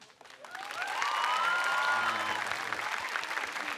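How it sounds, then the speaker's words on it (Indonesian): Audience applause and light cheering at an Indonesian stand-up comedy show swell quickly and hold steady, dense and fairly close, with a faint voice underneath. "Di sini yang anak kos bisa minta tepuk tangannya."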